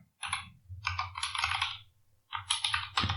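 Someone typing a command into a Linux terminal on a computer keyboard: two close bursts of rapid key clicks separated by a short pause, ending with a sharper keystroke, with no voices.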